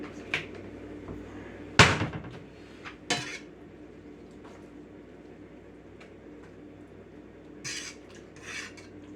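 Cooked pasta noodles are lifted out of a pot with metal utensils, giving a loud clank, a few scraping knocks and light rattles, over a steady low background rumble.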